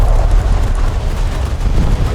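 Heavy naval gunfire and shell explosions in the War Thunder ship battle game, a continuous loud rumbling barrage of booms with deep low-end weight and no clear gaps across the stretch.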